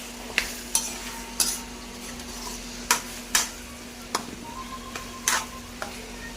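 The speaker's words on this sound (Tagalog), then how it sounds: "Halo-halo na ni Master Chef." Food being stirred in a cooking pan, with repeated scraping, clinking strokes at an uneven rhythm over a faint sizzle and a steady low hum, close by and with no talking.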